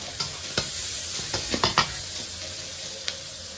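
Pork fat frying in a wok with scallion, ginger and garlic added, giving a steady sizzle broken by several sharp scrapes and clinks of a spatula stirring, alone without voices.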